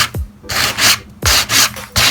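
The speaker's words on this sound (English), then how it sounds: "I took the sandpaper off of my belt sander, the old sandpaper, and put it on my sanding block" Old belt-sander sandpaper wrapped on a hand sanding block scrapes paint off wood in loud, close, rhythmic back-and-forth strokes, about four broad rasping passes.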